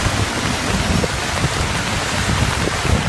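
Heavy daytime downpour flooding streets in Vinnytsia, a dense, loud, continuous hiss of rain hammering surfaces with no pauses.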